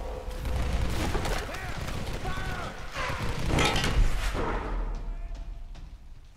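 Gunshots and mechanical clatter from the video game Tomb Raider Definitive Edition, a few sharp bursts over a busy game soundtrack, with speech mixed in.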